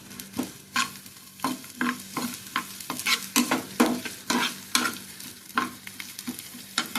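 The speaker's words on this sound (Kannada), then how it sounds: "ಫ್ರೈ ಮಾಡಬೇಕು ಈರುಳ್ಳಿ, ಸ್ವಲ್ಪ ಫ್ರೈಗೆ, ಸ್ವಲ್ಪ ಮಸಾಲೆಗೆ." Onions fry in a hot pan for matar paneer masala, a steady close sizzle broken by repeated scraping strokes of a stirring spoon, with no voices.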